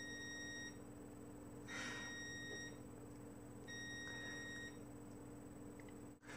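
A kitchen timer beeps for Christmas cookies in two bursts of steady, quiet repeated tones a few seconds apart, heard from another room over a low household hum.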